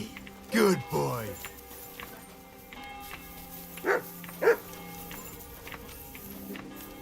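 Dog barks from a video game set in medieval Bohemia, two short separate yaps standing out over steady game ambience and footsteps, with a voice talking earlier.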